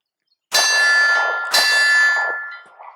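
Two loud, sharp shots from a Taurus Millenium PT111 G2 9mm pistol, about a second apart, each followed by a long ringing, metallic tail.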